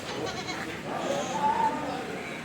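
Lambs bleat a few times amid a busy livestock-market hubbub in Kadirli, Turkey, the calls moderately close and rising over low background chatter.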